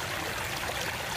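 Stream water flows and burbles around the legs of a camera tripod standing in a creek, a steady close broadband rush that continues alone without any speech.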